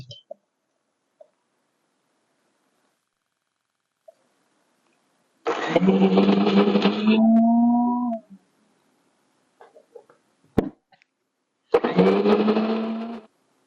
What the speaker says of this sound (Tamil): இதை இப்போ நம்ம மிக்சியில் போட்டு நைஸாக நான் அரைக்கிறேன்